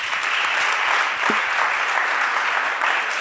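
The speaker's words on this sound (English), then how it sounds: "A huge round of applause for Lydia" Steady, dense applause from a conference audience fills the room without pause, loud and close throughout, with no voices standing out.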